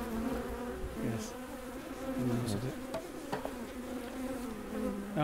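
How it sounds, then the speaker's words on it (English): Honey bees buzz in a steady, close drone as they are shaken off a comb frame during a Bailey comb change, a continuous insect hum with small knocks and no talk. "we'll just shake the bees off there"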